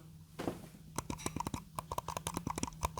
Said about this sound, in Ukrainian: Зараз давайте послухаємо, як вона клацає.